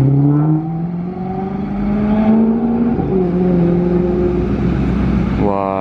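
An Alfa Romeo 8C Competition coupe passes close by, its engine sounding a loud, rising and falling tonal howl with shifting pitch, then a fresh surge of revs at the very end.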